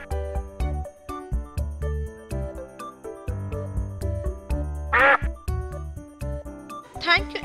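Several loud duck quacks cut through playful background music, with a voice speaking between them.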